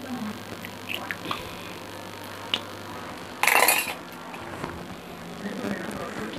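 Eggs cracked on a bowl rim and poured into a kitchen bowl: faint taps and clinks, then a brief wet splash and drip, close by in a quiet kitchen with a low hum.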